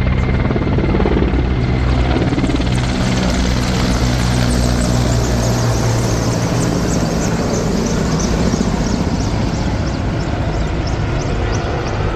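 A Polish special operations forces Mi-17 helicopter roars overhead at a Šiauliai air display, its heavy rotor thump and engine drone loud and steady throughout with no voices.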